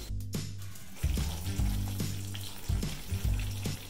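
A spoon stirs Parmesan cheese into a mushroom Alfredo sauce in a pan, giving soft intermittent scrapes and light bubbling over a steady low hum. The sound is moderately close, with no talking.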